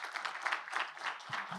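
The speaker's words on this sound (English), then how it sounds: "I would like to ask for another round of applause for all 4 presenters." An audience at an investment forum in Kigali gives a quiet round of applause for four presenters, with scattered hand claps heard at a distance.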